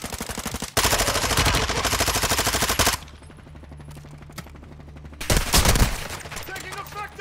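Rapid automatic gunfire from Call of Duty Warzone roars in a loud sustained burst, drops to a quieter stretch with low droning tones, then returns briefly in another burst near the end.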